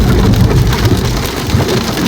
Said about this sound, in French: Et ben c'est le déluge.